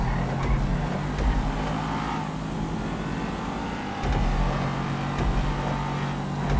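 A Rapid GT race car screams around a track through the final corners, its engine loud and close, revving hard and easing briefly before pulling again, with no one talking.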